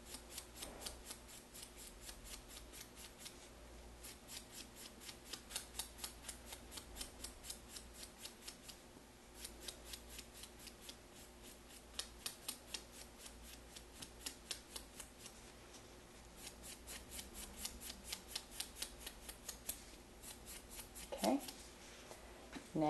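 A nail file buffs across a fingernail surface in quiet, steady rhythmic strokes, a soft repeated scratching heard close up with faint background noise.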